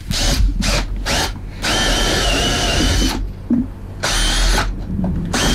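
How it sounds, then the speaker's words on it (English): An electric drill whirs in several short close bursts, starting and stopping repeatedly with brief pauses between, then a longer steady run. "And a few more drill holes."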